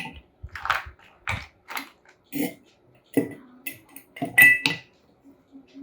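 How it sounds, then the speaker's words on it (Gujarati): Hard clinks and clatters of ice dropping into a glass, several separate knocks over a few seconds, close and fairly loud with no talking. "ગ્લાસમાં બરફ એડ કરી દઈશું."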